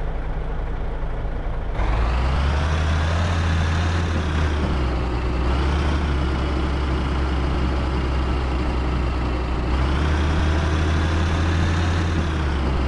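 A MAN TGX 2010 6x4 truck in Truck Simulator: Ultimate drives with a loud, steady diesel drone that shifts pitch a few times as it changes gear, with no talking.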